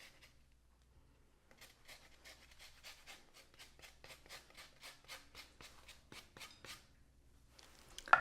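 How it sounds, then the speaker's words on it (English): A lemon being zested over a cold appetizer, giving a run of fast, even rasping strokes, soft and close, that stops after a few seconds and then picks up briefly again, with no voices. "I'm gonna zest a little bit of it over the top."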